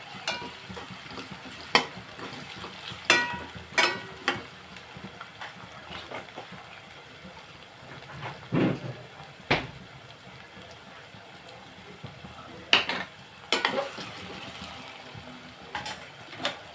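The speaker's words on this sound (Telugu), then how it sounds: "కొంచెం అల్లం వెల్లుల్లి పేస్ట్ వేస్తున్నాను ఇది కూడా బాగా వేపుకున్నాను" Ginger garlic paste frying in a pan with a low crackle, broken by sharp clinks and scrapes of a spoon against the pan.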